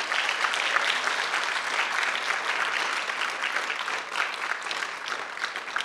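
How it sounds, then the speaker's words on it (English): A big round of audience applause for student speakers at the Merced County Speech Festival awards, many hands clapping in a thick, even roar that holds steady for about six seconds with no voices over it. "I would like to do one more big round of applause for all of our student speakers"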